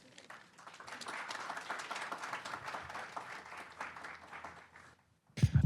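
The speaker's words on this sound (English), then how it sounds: "Give a round of applause" An audience at an academic bioethics symposium applauds steadily for about five seconds, moderately loud and even, fading out before a brief louder burst at the end.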